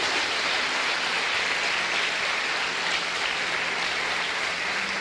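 A church congregation claps together in a dense, even patter of applause that holds steady from start to finish, with no voices standing out.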